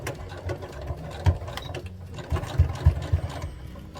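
A sewing machine stitching along the bottom of a fabric band on overall pants, a steady mechanical whirring and rattling with short uneven bursts as the needle runs, close and alone.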